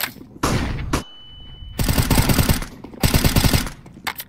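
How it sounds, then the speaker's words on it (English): A flashbang grenade goes off in a video game, with a sharp blast, a thin high ringing tone, then loud rapid gunfire bursts. "Deploying flashbang."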